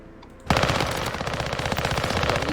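Automatic weapon fire in a shooter video game, a sudden loud, rapid continuous burst of shots that starts abruptly and rattles on to the end.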